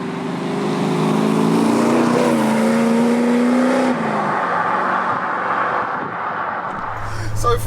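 A 50-year-old farm truck built as a sleeper drives and accelerates hard, its engine roaring loudly up through rising revs before easing off, close and dominant, with a voice briefly audible near the end.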